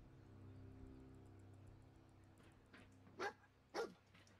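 A dog barks twice in Fallout 4, two short barks a little apart near the end, after a low hum of game ambience.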